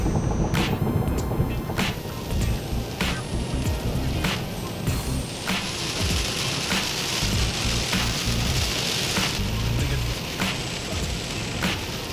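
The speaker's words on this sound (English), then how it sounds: "I can barely see anything in this rain." Heavy rain drums steadily on a car while it drives, loud and constant, with the roar of the road underneath and no talking.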